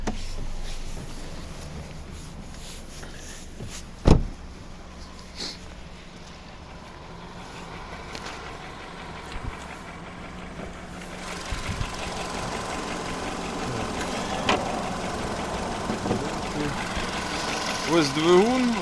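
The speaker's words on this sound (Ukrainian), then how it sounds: "Підемо подивимося, як працює наш двигун." A 2007 Volkswagen Cross Polo 1.6-litre 16-valve petrol engine idles with a steady low hum and light ticking, a sharp knock early on, then revs up louder toward the end as someone speaks nearby.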